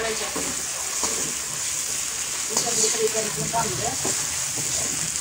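Ginger garlic paste fries with browned onions in a pot, giving a continuous hiss and crackle under a person talking, with a few louder stirring sounds in the middle.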